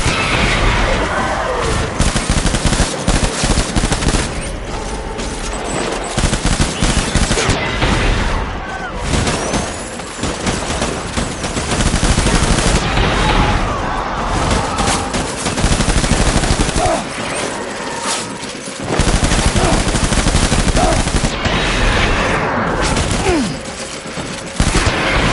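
Loud, dense gunfire from the video game Death Stranding, sustained bursts of rapid automatic shots and heavy impacts filling the whole stretch with only brief lulls, close and intense.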